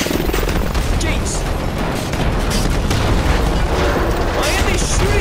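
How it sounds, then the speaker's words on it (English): Steady, dense gunfire and booming blasts fill a battle in the video game Call of Duty: Advanced Warfare, set in Detroit, loud and continuous throughout with no clear breaks. "Why are they shooting at us?"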